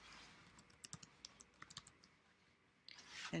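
A username is typed on a computer keyboard: a short run of quiet, close key clicks in an uneven rhythm, followed by a slightly louder rustle at the end.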